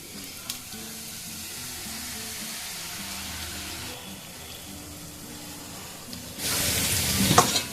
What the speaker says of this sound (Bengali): যেটা আমি মশলা দিয়ে মাখলাম সেটা এবার ভেজে নিচ্ছি